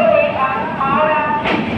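Saraighat Express train pulling into platform 9 at Howrah station, a steady rumbling roar with metallic squeals and a brighter hiss toward the end, loud and close.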